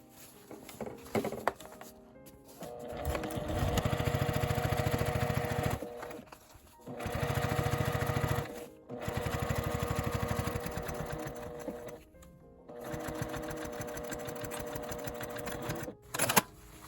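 A sewing machine runs in several bursts, stitching along the edge of a fabric pouch with a zipper, steady whirring runs of a few seconds each separated by short pauses, close and clear with no talking.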